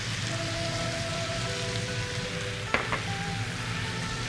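Cherry tomatoes of different colors added to a pan of chicken and its juices, giving a steady close sizzle and crackle with one small knock of something against the pan.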